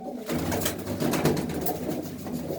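Pigeons coo close by in low, throaty repeated calls, a steady murmuring layer with a little background rustle and no talking.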